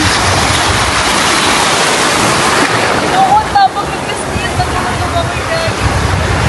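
Ocean waves wash onto a beach in a loud, continuous roar of surf, heavy with wind buffeting the microphone throughout.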